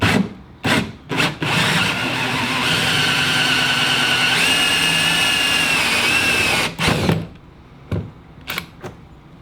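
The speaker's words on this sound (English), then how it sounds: "If you have a good quality sharp hole saw, it's gonna cut right through it like butter." A sharp hole saw cutting through a Bonafide SS127, a long steady grinding whir lasting several seconds, framed by short bursts of the drill starting and stopping.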